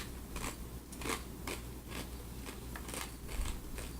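Repeated crisp crunches of someone biting and chewing a dry snack, steady rhythm up close, with no talking.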